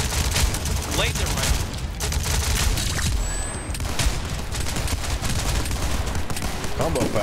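Rapid laser rifle fire from the video game Tower Unite, a dense stream of zapping shots over busy game noise and explosions, with players talking throughout.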